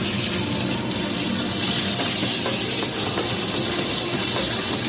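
Chopped tomatoes hitting a hot pan of frying ingredients, a loud, dense sizzle and hiss that holds steady for several seconds, close and without talking.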